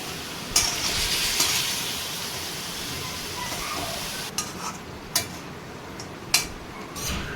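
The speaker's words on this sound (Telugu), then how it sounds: "చికెన్ నుంచి నీరు ఊడే వరకు, చికెన్ కలర్ చేంజ్ అయ్యే వరకు బాగా ఫ్రై చేసుకోవాలి." Chicken frying in a pan, a steady soft sizzle with several sharp clinks of a spoon stirring against the metal toward the end.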